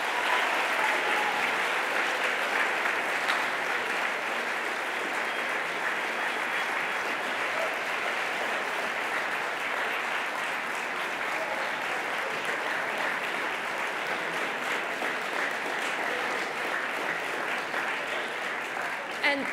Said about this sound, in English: If we could just give them one more round of applause.